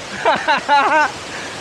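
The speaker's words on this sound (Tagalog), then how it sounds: "Yan. Pabigan Falls. Pagudpud." Pabigan Falls in Pagudpud pours out a steady, even rush of water that sits beneath excited voices and cheers close by.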